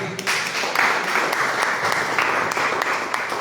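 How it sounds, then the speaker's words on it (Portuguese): Church congregation clapping together, a dense steady wash of many hands filling the sanctuary throughout, with faint voices mixed in. "Palmas para Jesus."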